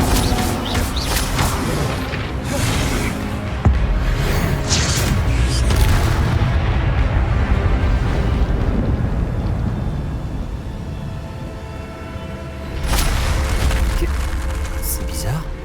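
The Incendio fire spell cast in Hogwarts Legacy, a sustained roaring, booming blast of flame over steady rumbling game sound, loud and close, with some brief crackling bursts and a renewed surge near the end.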